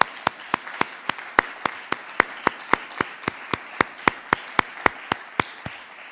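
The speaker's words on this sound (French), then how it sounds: "je tiens à ce qu'on vous applaudisse très très fort" Sharp, evenly spaced claps ring out at a charter signing event, about three per second over a soft bed of wider audience applause, steady and fairly close throughout.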